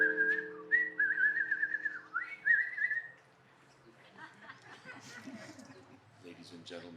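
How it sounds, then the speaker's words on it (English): A person whistles a lively tune for a few seconds, close and clear, then the whistling stops and soft talking and rustling follow. "Give a whistle."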